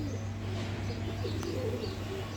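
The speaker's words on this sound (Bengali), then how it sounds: "আমার কবুতর গুলা" Pigeons coo close by in a home setting, with soft, repeated low calls and a few faint chirps over a steady background hum.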